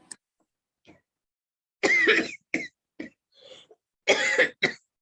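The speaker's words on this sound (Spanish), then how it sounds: "me está matando esta tos terrible" A person with a bad cough gives several harsh coughs close by, two in a quick pair and then another pair a moment later, with a faint throat sound between them and no talking.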